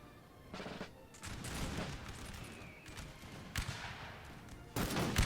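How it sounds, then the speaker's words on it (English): Musket volleys in the Napoleonic battle game Napoleon Total War, rolling crackling fusillades of massed gunfire along a battle line, sustained and fairly distant with bursts swelling near the end. "Firing all across the line now on the left side."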